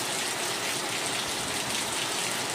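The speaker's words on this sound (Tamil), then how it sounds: "நல்ல மழை பெய்யுது" Heavy morning rain pours steadily outside, a dense, continuous wash of loud hiss with no breaks and no voices.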